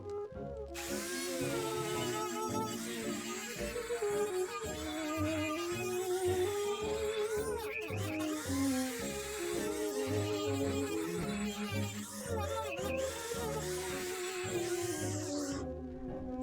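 A rotary tool whines steadily while buffing dirt and grime off a part of a 1940 Silvertone Model R1181 radio without rubbing compound, with a sustained pitch that wavers and dips as the bit presses against the surface.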